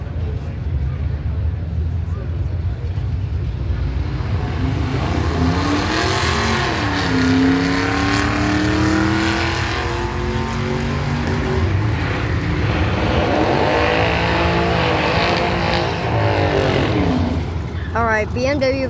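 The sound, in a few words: Camaro versus Camaro drag race, cars accelerating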